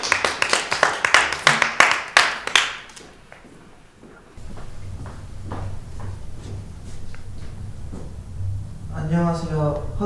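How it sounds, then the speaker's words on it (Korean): A classroom applauds a class president candidate with a burst of sharp, rhythmic claps lasting about three seconds. Talking and scattered classroom noise follow. "박수로 맞이해주세요."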